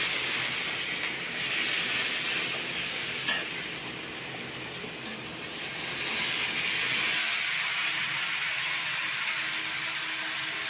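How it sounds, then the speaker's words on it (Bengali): Vegetables hit a hot pan for a Bengali bhog khichuri, a steady loud sizzle and hiss of frying that carries throughout, easing slightly partway through as stirring continues. "এই পর্যায়ে আমি সবজিটা এখন ঢেলে দেব।"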